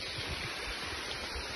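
Morzot waterfall in Konkan roars as a steady, even broadband rush of falling water, continuous and fairly close with no voices.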